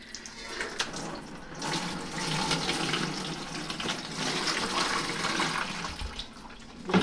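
Water and wet raw sheep and alpaca fleece pour into a strainer in a steady splashing, gurgling rush that runs the whole time, close and fairly loud, with a brief louder splash at the end.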